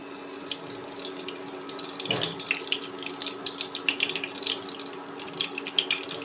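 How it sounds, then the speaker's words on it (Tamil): Mustard seeds sputter in hot oil in a kadai for aviyal, a continuous sizzling hiss dotted with quick pops and crackles that grow busier toward the end. "ஆயில் நல்லா காஞ்சிட்டு இருக்கு. இப்போ கடுகு சேர்த்துடலாம்."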